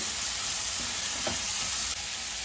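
Onion and tomato sizzle steadily in hot oil, a constant bright crackle with a faint stir or two of a spoon and no talking.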